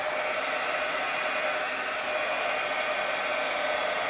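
A hair dryer blows on an upcycled thrift store find, a steady, loud, unbroken whir held at constant pitch throughout with no talking.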